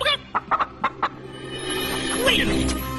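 A barnyard chicken clucks in a quick burst of five or six short sharp clucks close by, then the scene carries on with a rising whoosh and background noise.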